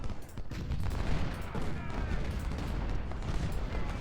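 Dense, continuous musket volleys from a distant skirmish in the Civil War strategy game Ultimate General at the Battle of Stones River, with cannon booms mixed into a steady roar of battlefield gunfire.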